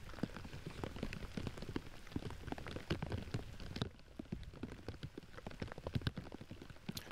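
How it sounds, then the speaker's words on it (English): Rain falls steadily across an outdoor disc golf course during a tournament round, a dense continuous patter of drops striking surfaces close by, with no voices. "It's raining."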